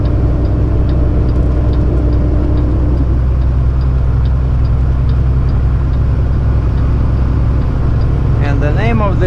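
A heavy Kenworth truck engine labouring in fourth gear, a deep droning low rumble heard from inside the cab, steady and loud, with a voice briefly audible near the end.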